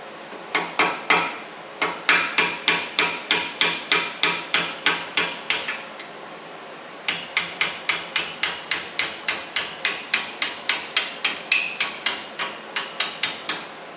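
A hammer strikes a flat punch to drive out the brake caliper pins on a Lexus GS-F or RC-F with Brembo six-piston front calipers. Sharp metallic blows land in a steady rapid rhythm, in two long runs separated by a brief pause.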